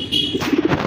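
Racer pigeons at a pigeon sale give a brief, soft, low cooing burst of a few quick pulses, close by with faint background noise.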